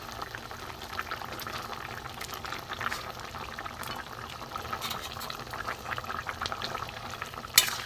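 Curry broth with brinjal and potato simmering in a pan for a small hilsa fish curry with mustard paste, a continuous soft bubbling and sizzling heard close by, with a sharp clink near the end and no talking.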